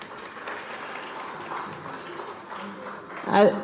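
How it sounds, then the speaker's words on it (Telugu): An audience claps for the teachers, a moderate, steady applause under a speaking voice, swelling briefly near the end. "మీ అందరికీ ధన్యవాదములు, మీ అందరికీ క్లాప్స్."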